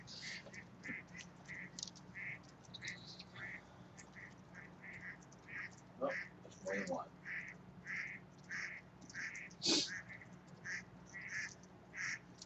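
Ducks quack in a long, fairly regular series, some calls louder than others, at moderate distance over low background hum, while a person speaks briefly partway through.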